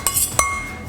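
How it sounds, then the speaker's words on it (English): A fork clinks twice against a glass jar while lifting oil-packed sun-dried tomatoes out, two bright close taps about a third of a second apart, then a faint ringing tail. "So what I do is I just lift them out of the jar using a fork"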